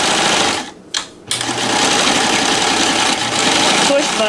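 A NELCO L 400 zig zag sewing machine stitches in a steady, close mechanical whir that runs for most of the clip after a brief dip near the start, with no speech over it.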